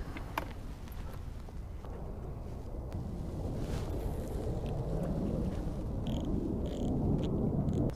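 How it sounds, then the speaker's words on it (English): Wind gusting around a boat on the water while fishing for chain pickerel, a broad rushing roar that buffets the microphone and builds steadily louder across the stretch, with no voices. "The wind picked up."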